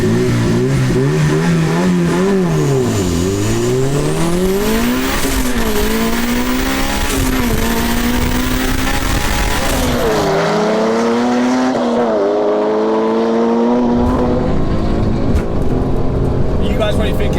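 Drag race between a 350 bhp Mini and a 650 bhp stage 2 Mercedes C63S, loud engines revving and accelerating hard with rising gear pitches, continuous and close, with people talking over it.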